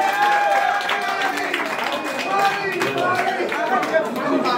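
A live concert audience in Paris claps with scattered applause mixed into loud crowd chatter and voices that stay prominent throughout.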